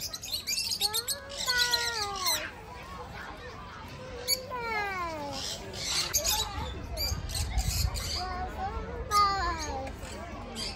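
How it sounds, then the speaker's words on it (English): Many parrots in a zoo aviary squawking and screeching in repeated harsh, rising and falling calls, close and loud, with people talking excitedly over them. "Oh, so many parrots."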